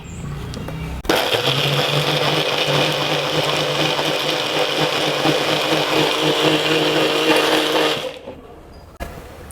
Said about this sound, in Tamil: இப்போ இதை மிக்ஸியில் போட்டு அரைச்சிக்கலாம் வாங்க.